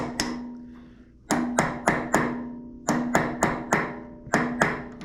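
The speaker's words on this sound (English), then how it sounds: "Just take a hammer and a punch." Metallic hammer strikes on a punch while repairing an old excavator, sharp ringing hits in uneven clusters of two or three, close up with a faint ring after each blow.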